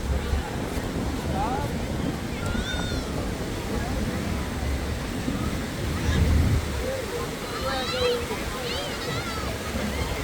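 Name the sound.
sea waves on Da Nang coast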